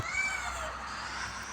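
A pet house cat gives a single drawn-out meow, close and clear over a quiet room.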